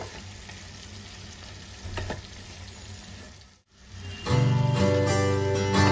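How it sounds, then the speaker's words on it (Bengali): Spiny gourd and egg curry with garam masala being stirred in a pan, a steady close sizzle with brief scraping strokes, dipping for a moment and then returning louder and hissier. "এবার গরম মশলাটা দিয়েছি, এবার একটু ভালো করে মিশিয়ে নেব।"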